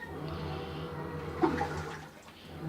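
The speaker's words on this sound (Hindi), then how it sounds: "ये देखिए इस तरह से हमारे पास इतना इसमें पानी जो है वो आ चुका है। अभी ये और फिल हो रही है।" Water runs steadily into a Haier 1789 automatic washing machine as it fills for a tub-cleaning cycle, a continuous close rushing and splashing with a brief louder surge midway.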